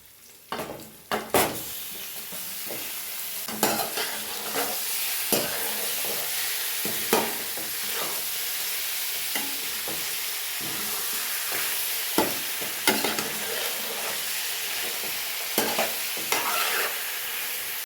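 Chicken sizzling in a pan with mint for a home-style chicken curry, stirred with repeated sharp scraping strokes over a steady close frying hiss, no talking.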